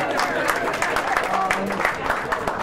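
Applause from guests at a birthday party, a dense continuous patter of many hands clapping close by, mixed with voices talking over it.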